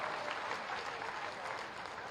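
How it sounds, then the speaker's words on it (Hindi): Steady, dense applause from a large crowd at a chief minister's public event inaugurating development projects in Balrampur and Shravasti, a continuous wash of clapping that holds at an even level from start to finish. "एक बार ताली तो बता दीजिए"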